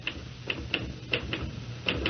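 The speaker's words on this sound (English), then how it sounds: "Stop that typing." Typewriter keys strike in an irregular run of sharp, dry clacks in a 1970s radio drama, close and fairly quiet over a low steady hum.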